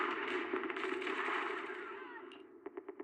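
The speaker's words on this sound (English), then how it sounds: "The gunfire and voices gradually fade away and everything returns to silent." Dense rapid gunfire in the video game Zenless Zone Zero crackles under a wash of noise and murmuring voices, fading out before a few sharp final shots close it.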